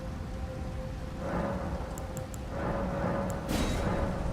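Steady rainfall in the Elden Ring DLC, a soft continuous hiss of rain with a low rumble swelling partway through and a few faint chiming game sounds on top.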